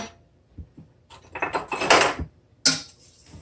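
A broccoli, cheese and mozzarella quiche filling is stirred in a bowl, giving soft scrapes and clinks that build into a busy stretch of mixing, then one last sharp knock, with quiet pauses between.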